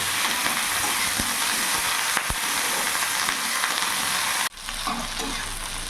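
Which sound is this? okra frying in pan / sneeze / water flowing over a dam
okra frying in pan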